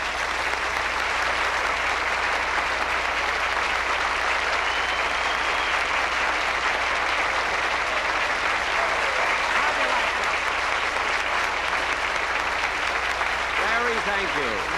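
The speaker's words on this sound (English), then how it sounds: "Listen to that applause." A large TV-show studio audience applauds Jack Benny continuously, a dense, even wash of clapping that holds steady throughout with a faint voice near the end.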